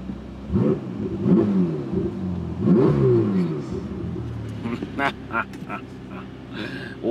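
A Ferrari's engine revs up under throttle in a couple of loud, rising bursts nearby, with a person talking over and between the revs.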